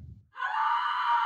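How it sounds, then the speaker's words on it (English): A loud, sustained scream from a Garry's Mod murder game runs for about a second, preceded by a brief low rumble, with no talk over it. "That scream every time."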